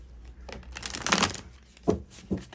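A tarot card deck being shuffled by hand, heard as a few quick, papery riffling bursts with brief pauses between them, close up and with no talking.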